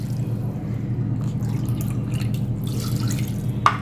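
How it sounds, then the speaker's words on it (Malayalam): Water poured into a pressure cooker pot for cooking wheat, a steady close trickle and splash lasting throughout, ending with a small clink of the vessel. "ഇതിൽ 3 കപ്പ് വെള്ളം ഒഴിച്ച് നമുക്ക് നന്നായിട്ട് ഉപ്പുമിട്ട് വേവിച്ചെടുക്കാം"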